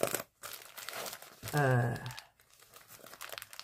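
Plastic packaging being cut open and unwrapped, with a brief burst of crinkling and tearing close by, surrounded by someone talking.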